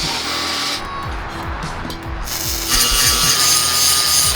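Metal cutting on a steel bracket fixed to a vehicle axle, notching it out: a steady grinding, rasping rub repeating in strokes, close and fairly loud, alone with no talk.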